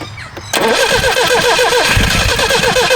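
Lotus car engine cranking on the choke and catching, a brief starter whirr followed by a loud, rough, uneven idle that runs on close by.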